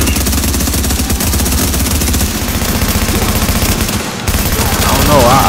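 Gunfire from The Division video game, loud and rapid automatic bursts rattling almost without pause. There is a short break near the end, and a voice can be heard faintly under it.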